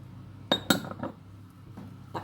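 Metal pot lid clinking against a pot as it is covered while cooking ginataang kalabasa with kangkong and eggplant, two sharp close clinks in quick succession followed by a softer rattle and a faint clink at the end.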